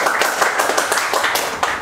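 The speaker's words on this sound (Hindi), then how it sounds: "ये तालियां किसके लिए बज रही हैं?" A group of people claps in a repair training class, brisk continuous hand claps close by with no talking.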